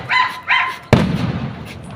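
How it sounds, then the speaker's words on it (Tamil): A sudden loud bang cracks out close by from a Diwali camera firecracker, preceded by two short whistling tones, then a rushing crackle trails off. "இதான் கேமரா வெடி."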